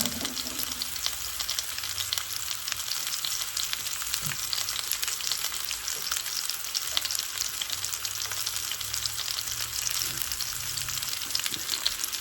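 Pork tenderloin browning in hot oil in a pan gives a steady, dense sizzle that holds evenly for the whole stretch, close and fairly loud, with no talking.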